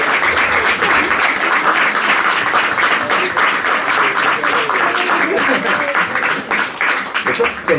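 An audience at a talk on epistolary literature applauds in sustained, dense clapping that stays loud and even for several seconds before thinning slightly at the end.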